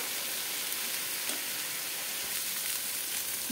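Onion-chili paste and ginger-garlic paste fry in a pan for a prawn malai curry, a steady, close bubbling sizzle with a few soft stirring scrapes and no talking.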